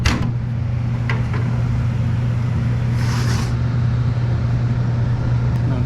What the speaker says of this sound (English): I think the condenser turned on.